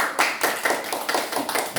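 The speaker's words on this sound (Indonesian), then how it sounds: "Silakan tepuk tangan buat kelompok 1." Classroom applause for a student group about to present: a short burst of several pairs of hands clapping in a loose, uneven rhythm, close and fairly loud, with no talking.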